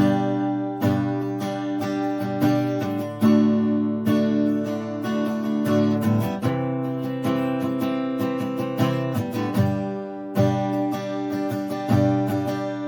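Acoustic guitar strums the repeating four-chord progression of a song, steady, rhythmic and close, with bright ringing chords and no voice.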